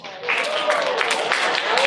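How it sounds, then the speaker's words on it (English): An audience at a middle school awards assembly claps in a burst of applause that starts abruptly and carries on at a steady level, with scattered sharper claps and a hint of voices beneath. "hold your applause"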